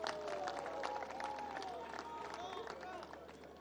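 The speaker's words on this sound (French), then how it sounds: "Applaudissements, s'il vous plaît" Applause for the President at a university inauguration in Kananga, a broad crowd clapping steadily throughout with chatter and voices mixed in.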